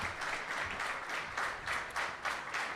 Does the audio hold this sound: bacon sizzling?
no